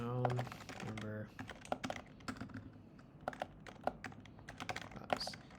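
A computer keyboard clacks in quick, irregular bursts as code is typed, quiet and close, with a brief tone or voice at the start.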